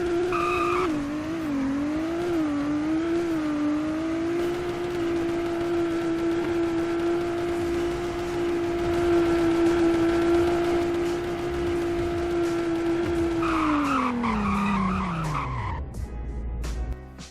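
A car in Roblox Greenville runs a 0 to 100 braking test: a steady, loud synthetic engine whine climbs and holds, then drops sharply in pitch as it brakes, ending in a brief tire screech and rumble as it stops.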